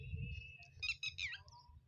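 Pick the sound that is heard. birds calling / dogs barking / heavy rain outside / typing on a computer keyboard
birds calling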